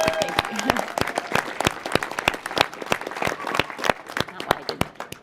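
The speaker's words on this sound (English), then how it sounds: "if I could ask all of you for a nice round of applause for Kira Blackwell and all the work she does" Applause at a startup awards night in Colorado Springs during the winner announcement. Sharp individual claps ring out distinctly, with faint talk beneath them early on. The clapping thins and grows sparser toward the end.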